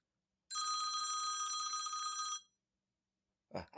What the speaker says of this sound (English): the phone is scaring him